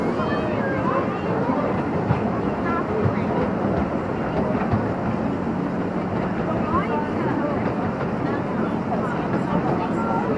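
Miniature park train ride at Drayton Manor Resort, a steady rumbling, clattering run along the track heard up close from onboard, continuous and fairly loud throughout.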